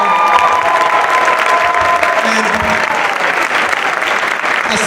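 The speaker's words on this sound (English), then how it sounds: "can we give those people a round of applause?" An audience at a winter band concert applauds in a loud, sustained burst of clapping that fills the whole stretch at a steady level. A few faint cheers mix into the clapping.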